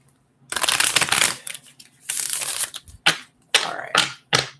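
Tarot cards are shuffled in several bursts of crisp riffling and slapping, one long run followed by shorter ones, close and fairly loud with short gaps between them.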